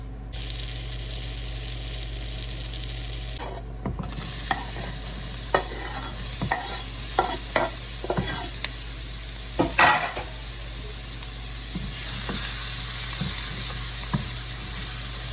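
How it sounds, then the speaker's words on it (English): Onions sauteing in butter in a pan, a bright steady sizzle with a run of distinct spatula scrapes and taps, close and loud, with no talking. "I'm gonna go ahead and use butter to saute those onions"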